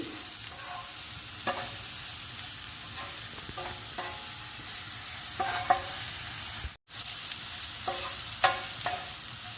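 Onions, green chillies, ginger garlic paste and cumin-coriander powder frying in oil for a beetroot fry, a constant close sizzle with periodic spoon scrapes and one brief dropout, no talking.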